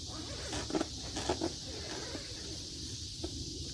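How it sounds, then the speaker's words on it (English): Zippers on an REI Co-op Half Dome SL 2+ tent worked in short scratchy pulls, a few brief rasps over a steady hiss, close and fairly quiet. "let's check the zippers here"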